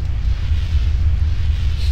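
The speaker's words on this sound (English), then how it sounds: "More explosions." Explosions in the video game Gothic 2 (Night of the Raven): a continuous deep low rumble with heavy bass, loud and sustained for about two seconds, with no voices.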